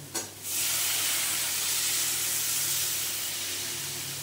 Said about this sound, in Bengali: এইবারে দিয়ে দেবো পরিমাণ মতন জল সেদ্ধ হওয়ার জন্য।